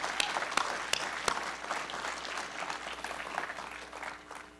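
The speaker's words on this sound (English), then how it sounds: "we can clap for that" An audience at a film premiere applauds, a continuous, fairly distant patter of many hands with a few sharp, louder claps near the start, fading slightly toward the end.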